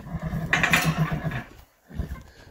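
A horse whinnies loudly and close by in a rescue-horse training setting, a long shaky neigh that fades after about a second, followed by a short low snort.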